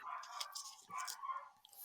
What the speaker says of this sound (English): I could totally hear the dog.